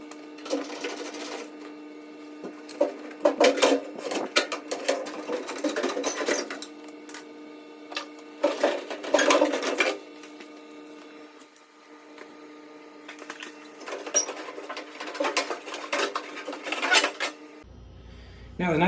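Sheet metal screws being backed out of a Samsung dryer panel with a power screwdriver, several buzzing whirring bursts with pauses between them, close and fairly loud over a steady hum.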